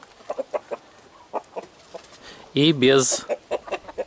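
A rooster crows in a single loud, drawn-out call that rises out of sparse clucks and scattered soft background noise, with short clucking bursts before and after it.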